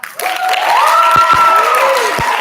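Applause for graduating families at a school graduation ceremony, steady crowd clapping throughout with a sustained tonal whistle or feedback gliding above it and a few heavy thumps.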